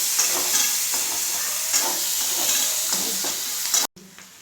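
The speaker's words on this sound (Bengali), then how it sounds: "পেঁয়াজটাকে একটু ভাজা ভাজা করব" Three medium chopped onions fry in oil in a pan, giving a steady, loud, close sizzle with occasional stirring scrapes that cuts off abruptly near the end.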